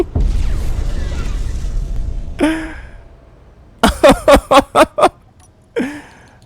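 A modded weapon in Space Engineers fires with explosions: a single blast, then a rapid string of about six sharp shots, then another blast, each followed by a short echoing tail over quiet background.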